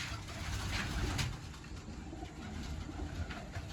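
Pigeons cooing nearby in a loft, soft repeated low coos over a faint outdoor background with no talking.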